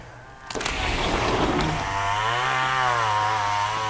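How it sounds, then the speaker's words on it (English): A chainsaw starts up with a sharp burst while clearing brush behind a house, then drones loudly and steadily, its engine pitch wavering slightly as it runs. "the chainsaws once again are going because they're cleaning all this out."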